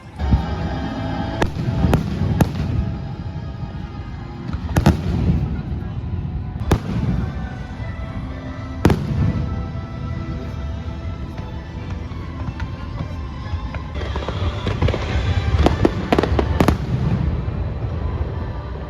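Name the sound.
fireworks display at Epcot, Disney World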